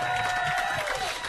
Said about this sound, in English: That is about the loudest cheer we've had all season.